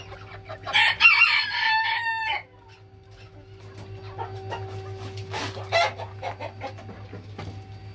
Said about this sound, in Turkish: Tabii şu güzel bir horoz olacak Batuhan.